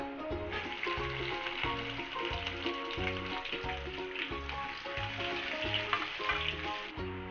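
Peanuts and onion fry in oil in a pan over low gas for a tadka for Kande Pohe, giving a steady, close, continuous sizzle that runs throughout alongside a repeating tonal backing.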